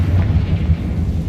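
A Confringo blasting spell cast in Hogwarts Legacy lands as a brief, deep rumbling blast that rolls loudly for just over a second.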